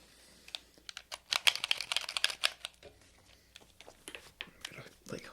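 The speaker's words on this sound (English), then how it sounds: "It is the GameCube controller, okay? I don't know if you guys like controller sounds, but this makes some of my favorite controller sounds." A GameCube controller handled up close, with rapid plastic button clicks and crinkly rattling in quick clusters, busier in the middle and softer toward the end, quiet and intimate in an ASMR setting.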